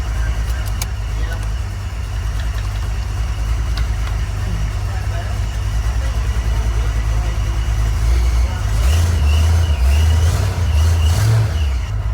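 A car engine runs steadily up close, a continuous low drone that lifts in level toward the end, likely as the throttle is revved; the car had previously overheated and spat coolant, with voices occasionally over the engine.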